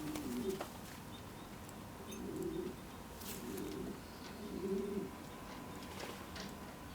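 A blue-barred racing pigeon cock coos in repeated soft, low rolling phrases, about four spaced calls, fairly faint against a steady background hiss.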